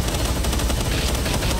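Dense, continuous gunfire rattles without a break during a Palworld boss fight against Bellanoir Libero, rapid shots blurring together into a loud, steady barrage.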